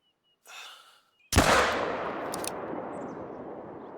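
A single loud, close rifle shot at an animal in theHunter: Call of the Wild fires after a soft breath, then booms and rolls away in a long fading echo.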